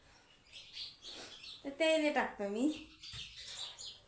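A house sparrow chirps close by in several quick bright calls, hungry and begging at home, with someone speaking softly before and after the calls.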